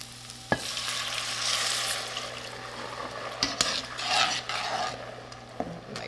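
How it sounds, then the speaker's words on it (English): Braised short ribs sizzling in a hot pan as red wine and beef broth go in to deglaze, a steady fizzing hiss with scraping stirs and a few sharp utensil knocks against the pan, close by, no talking. "I'm also going to do a cup of some beef broth or beef stock right here that we're going to deglaze it with."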